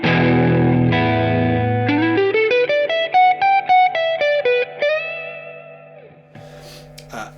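A creamy, overdriven electric guitar lead through a Chase Tone Secret Preamp pedal and an RD Dualist, with the amp's onboard reverb, plays sustained notes and a quick run of repeated picked notes before a ringing final note decays away.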